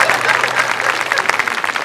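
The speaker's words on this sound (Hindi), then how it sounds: "एक बार जरा जोरदार ताली बजाए इसकी समझदारी पे।" Loud audience clapping at a Hindi comedy poetry recital, a brisk continuous burst of many hands lasting under two seconds.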